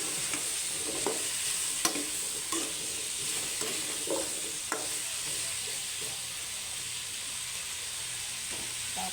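Squash and string beans for squash in coconut milk stirred in a sizzling pan, with a soft steady fry and repeated light scraping taps of the spoon at an uneven rhythm.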